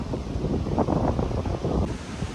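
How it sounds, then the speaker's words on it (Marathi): Powerful wind roars steadily against the microphone on a hilltop fort path, a dense, rumbling rush with no voices. "बघू शकता वारा किती जोराने चालला आहे"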